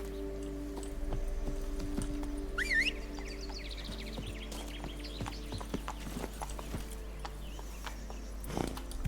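Horse hooves clip-clop in The Witcher 3 video game, a steady rhythmic trot over a constant low game hum, with a brief bird chirp above.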